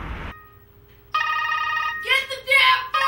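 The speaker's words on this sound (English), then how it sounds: "Get the damn phone!" A telephone rings in a home with repeated electronic ring tones, fairly clear and close, while people talk and shout over it.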